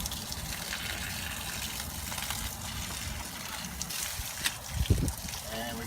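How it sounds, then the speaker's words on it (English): Water gushing and trickling as it rinses through fluorite clay aquarium substrate, a continuous splashy flow with a few louder sloshes toward the end. "we got some pretty clear water coming out of here now"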